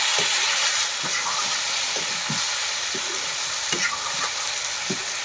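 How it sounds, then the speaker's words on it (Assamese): Pork with tomatoes fries in a pan, a steady loud sizzle with intermittent stirring scrapes and clinks of a spatula against the metal, close up and with no talking. "বিলাহী দি পেলাই পূৰা ভাজি আছোঁ"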